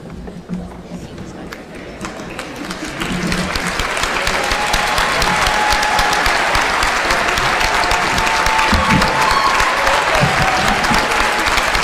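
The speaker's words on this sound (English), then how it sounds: "Yes, applause." Applause at a university undergraduate commencement ceremony, starting scattered and swelling after a few seconds into a broad, steady roar of clapping from a large crowd, with a voice heard early on.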